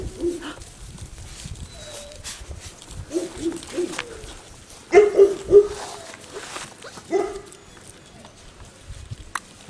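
Six-week-old Bernese Mountain Dog puppies give short high yips and squeaks, scattered through the clip and bunched in a brief cluster near the middle, close by over a busy room with voices talking.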